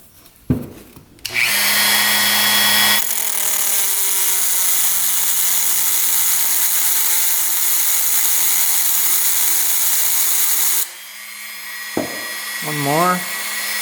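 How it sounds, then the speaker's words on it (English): A Dremel rotary tool cuts slits into dirt bike screws with a loud, sustained high whine that runs for several seconds and then stops, followed by brief speech. "taking the Dremel tool and we're just cutting slits in here"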